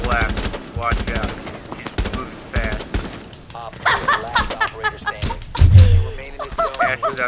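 Rapid bursts of P90 submachine gun fire in the shooter game Rainbow Six Siege crackle in quick volleys, mixed with in-game effects and overlapping excited player voices.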